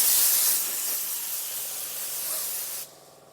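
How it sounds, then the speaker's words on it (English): Compressed air blasts from a regular handheld air nozzle in a steady, loud hiss that fades slightly, then cuts off abruptly near the end, leaving quiet background. "This is just a regular air nozzle."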